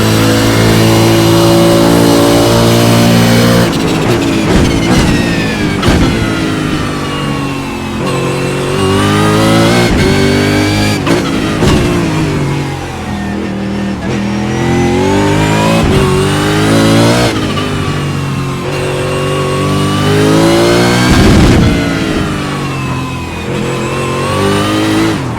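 V8 Supercar engine in an iRacing sim at the Long Beach street circuit, screaming loud and continuous, its pitch climbing through gears and dropping on downshifts, with several sharp rev changes across the lap.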